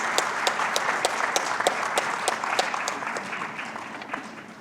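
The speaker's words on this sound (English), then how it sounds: "Big round of applause, please." A conference audience at an economic dialogue on small businesses gives a steady round of applause during an appreciation presentation, continuous, even clapping at a moderate level that tapers slightly near the end.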